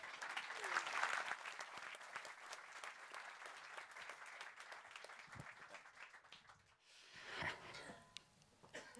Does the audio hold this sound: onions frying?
no